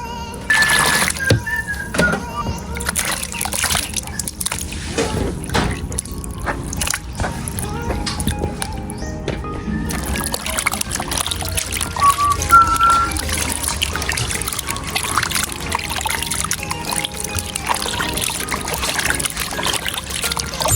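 Tap water runs steadily while sliced squid is rinsed, a continuous trickle and splash close by with occasional light knocks and clinks throughout.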